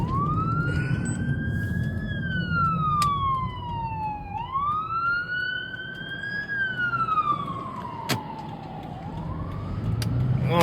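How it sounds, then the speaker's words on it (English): A wailing ambulance siren sweeps slowly up and down in long cycles, moderately loud and passing by amid road traffic noise. "seeing an ambulance."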